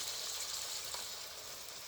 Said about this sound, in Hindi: ये हमने वो वाला पानी ऐड कर दिया